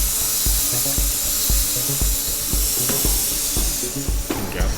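A power drill bores holes into an engine valve cover for an oil drain modification, a steady loud whirring buzz running throughout with a string of sharp, regular clicks and knocks punctuating it.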